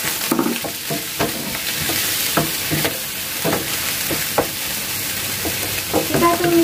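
Squid stir-fried in a hot pan sizzles steadily, with repeated scraping and clacking of a utensil stirring the pieces, close and fairly loud throughout.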